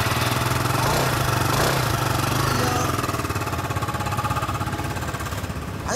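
A Yamaha Cygnus-X scooter engine idles close by, a loud continuous buzzing putter with a rapid regular pulse that eases slightly toward the end.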